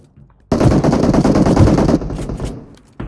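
A rapid automatic burst of gunfire in PUBG Mobile rattles loudly and close for about a second and a half, then trails into fainter scattered shots and echoes.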